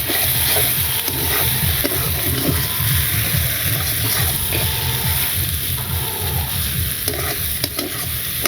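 Spices fry in a pan with a constant loud sizzle, broken by repeated stirring scrapes up close.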